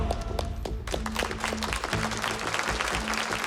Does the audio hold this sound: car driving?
no